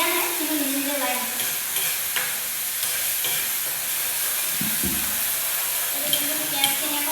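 Onions frying in oil for a paneer curry give a continuous soft sizzle and hiss, with occasional stirring scrapes and clinks nearby, while faint background voices come and go.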